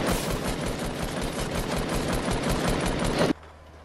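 An AK rifle fires in a video game in a long, rapid automatic burst, loud and close, then cuts off abruptly into near silence.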